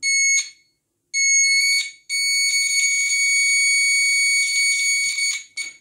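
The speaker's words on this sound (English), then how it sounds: "immediately you will hear the sound from the buzzer" An electronic buzzer in a steady-hand wire game sounds when the copper wire touches and completes the circuit: loud, shrill, continuous tones that start and stop in several bursts, with one long stretch of ringing.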